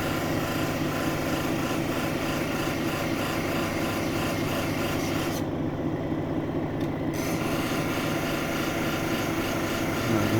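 A Brazilian agate sample being ground on a coarse grit wheel: a constant, loud abrasive rasping drone with a steady motor hum underneath, briefly changing tone midway as contact lightens, no speech.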